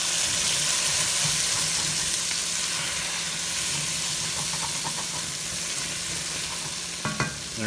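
Beef simmering and sizzling in a stew pot, a constant close bubbling hiss with a low hum underneath, ending in a few clanks near the close.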